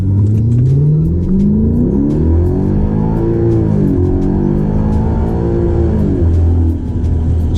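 A 2012 Hyundai Genesis 5.0 R-Spec V8 with about 140,000 miles launches hard from roughly 1,000 RPM with traction control off in manual mode, engine revs climbing steadily through several upshifts in a loud, continuous close-up roar.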